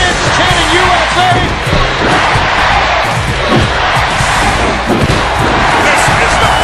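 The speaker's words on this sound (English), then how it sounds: "The fans chanting USA." A capacity crowd in a WWE wrestling video game roars and chants in a loud, continuous wall of noise, with dull thuds and slams from the ring mixed in.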